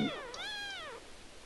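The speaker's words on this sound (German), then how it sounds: "Oh, die schnurren so süß." A lynx cub in the video game Shelter 2 gives a single soft, drawn-out, rising-then-falling mewing call, close and clear, followed by quiet.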